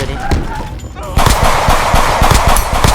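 Rapid gunfire in the Roblox game Block Spin, starting with scattered shots under excited talking and then bursting into a loud, dense volley of repeated shots.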